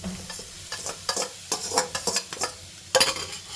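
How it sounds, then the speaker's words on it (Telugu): Rice is stirred into a sizzling frying pan mixture for a kids' lunch box dish, a spoon scraping and clinking against the pan in uneven strokes over a soft frying hiss, close with no talk. "ఇది మొత్తం కలుపుకుందామండి"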